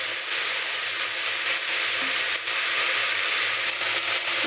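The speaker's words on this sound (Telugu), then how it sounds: "పచ్చివాసన పోయే వరకు వేయించుకోవాలి" Spices fry in a pan for a godichikkadikyalu curry, giving a loud, steady, close sizzling hiss that runs unbroken from start to finish without any voices.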